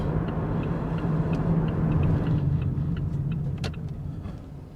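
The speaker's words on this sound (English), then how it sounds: "That's why you can hear the indicator going right." Soft rhythmic ticking of a car's turn signal inside a moving vehicle on a UK road, steady clicks over a loud low road and engine rumble.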